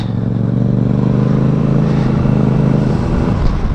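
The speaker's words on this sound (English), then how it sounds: "But the bike goes. And we've put the stock exhaust back on it." A motorcycle with its stock exhaust runs steadily at moderate revs, a fairly quiet, even drone heard up close with a slight change in pitch near the end.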